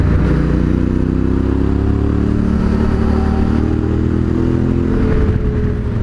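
Yamaha Tenere T700 motorcycle riding steadily while splitting lanes in traffic, its engine droning loud and close with a continuous low hum and wind, revs shifting only slightly throughout.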